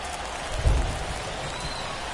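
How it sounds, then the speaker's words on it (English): Steady rain pours onto a baseball field in MLB The Show 24, a constant broadband hiss with a brief low thump partway through. "We'll see how well the field holds up with the way the rain is coming down"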